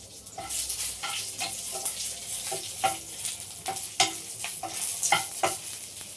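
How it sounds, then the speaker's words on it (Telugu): Dried Kashmiri red chillies fry in a little oil for a chutney. Close, crackling sizzle is punctuated by repeated scraping stirs of a spoon against the pan, each stroke a short clack, with no voices. "ఇప్పుడు మనం ఎండుమిర్చి వేయించుకుందాం"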